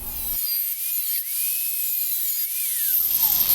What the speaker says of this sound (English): next I'm going to cut off the top of the skull head to allow it to fit through the hilt.